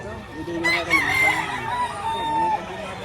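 An eight-month-old rooster at a market in Lipa, Batangas crows once in a long drawn-out call, fairly close, over steady crowd background noise.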